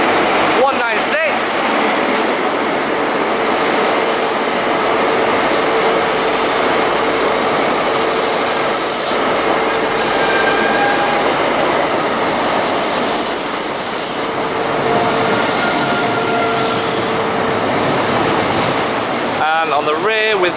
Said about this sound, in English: Next train arriving is a Class 43 HST set bound for Swansea from London Paddington